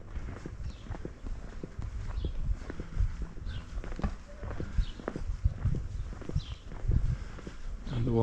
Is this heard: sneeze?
no